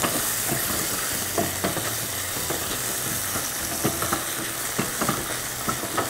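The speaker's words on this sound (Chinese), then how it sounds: "那我们再把牛肉下去拌一拌。" Beef and scallions stir-fried in a pan over medium heat, a constant loud sizzle with frequent clacks of the spatula against the pan as it is tossed, no voices.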